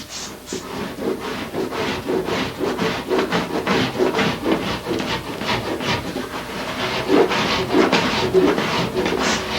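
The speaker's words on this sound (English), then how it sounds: "get the cheese grater out and start grating this area so it's pretty smooth" A surform cheese-grater rasp scrapes over car body filler in quick repeated strokes, making a close, gritty rasping that pulses back and forth steadily with no speech.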